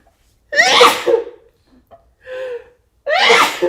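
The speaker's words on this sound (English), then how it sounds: "Told you I was going to sneeze." A loud, close sneeze with a sharp gasping intake, followed by a softer breathy sound, then a second forceful sneeze.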